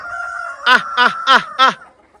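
Four loud rooster crows in quick succession, close by, over a background of steady clucking and fowl calls.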